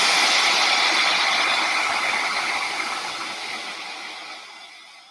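Hair dryer blowing steadily on wet paint on a craft project, a close, loud broadband whoosh that holds for several seconds and then slowly tapers off as it is pulled away.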